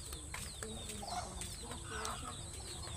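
Chickens cluck repeatedly at a farm, short clucks and calls coming from several birds at close to middle distance over steady background noise.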